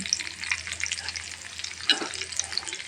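Dried chilies and garlic frying in oil in a pan for a drumstick-leaf stir-fry, giving a steady, close crackling sizzle with stirring scrapes and one brief sharper burst near the end.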